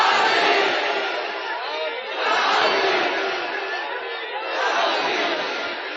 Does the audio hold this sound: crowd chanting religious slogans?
yes